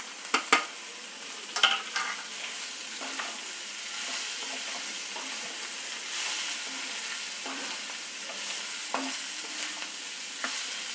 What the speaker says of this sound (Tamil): இந்த கட் பண்ணி வச்சுருக்கிற கோஸை சேர்த்துடலாம்